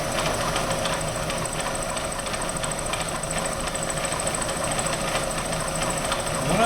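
Vertical milling machine cutting into a metal workpiece in a lab, a continuous loud droning whine with a steady grinding texture throughout, no pauses.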